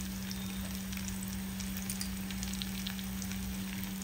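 Tomatoes fry in a pan with ginger and garlic, a steady close sizzle and hiss running through the whole stretch over a low constant hum, with no talking.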